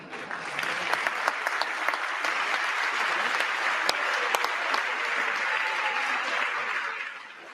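A large crowd in the chamber during a presidential address to Congress claps in sustained applause, dense and close, rising quickly and holding steady for several seconds before fading slightly at the end.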